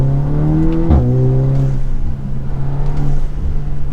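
A car downshifted into second gear in Sport +4 mode with the exhaust opened, its engine note rising into a sharp rev and then holding a loud, steady drone.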